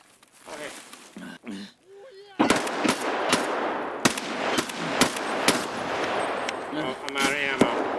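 Machine gun bursts ring out in a video game, rapid loud rattling volleys repeating over several seconds after a quiet opening with brief speech.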